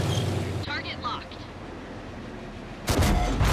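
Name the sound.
Nashorn tank destroyer cannon firing, from a video game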